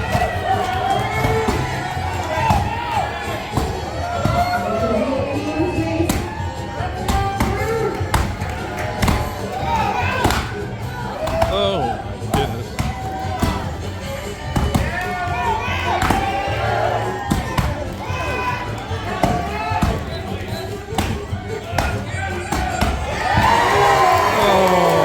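A large outdoor audience at a lumberjack show in Ketchikan, Alaska, cheers and shouts steadily for the whole stretch, with children's yells and scattered thuds mixed into the dense, loud crowd noise.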